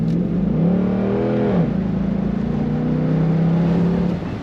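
A 2004 Chevrolet Corvette convertible with an automatic transmission accelerates with a loud, close engine note that climbs in pitch, dips briefly, then holds a steady drone.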